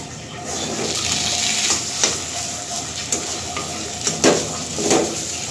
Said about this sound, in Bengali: তবুও আমি আরও কিছুক্ষণ একটু নাড়াচাড়া করে নেব